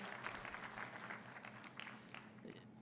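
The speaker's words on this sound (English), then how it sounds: "A big round of applause for all the new members who have" Applause for newly admitted members of the Institute of Chartered Accountants of India. A room full of people claps steadily and softly at a distance, a continuous patter with a little crowd murmur underneath.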